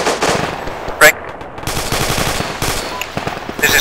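Machine gun fire in a military video game, rapid bursts of automatic shots crackling close and loud, with a brief sharp louder blast among them.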